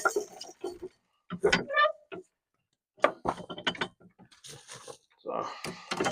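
A hand-cranked corn sheller strips kernels from ears of corn in repeated bursts of ratcheting, grinding clatter, with short pauses between ears.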